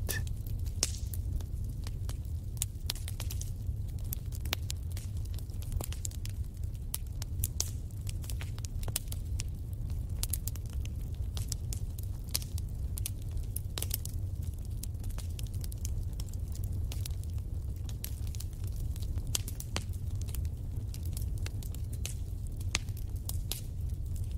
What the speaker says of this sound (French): laissez-vous bercer par le doux ronronnement du feu qui crépite